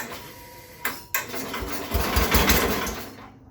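A Bolens 1050 garden tractor engine cranks over with the choke on, a rough rapid chugging that builds in loudness and speed toward the middle, then fades, heard close with no voices.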